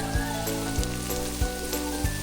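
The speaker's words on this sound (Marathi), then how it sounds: "आणि आता कांदा टाकले आतमध्ये." Onions drop into hot oil in a pot over a wood-fired clay stove in a rural cattle shed near Matheran, giving a steady sizzle with a few soft stirring knocks, and no speech.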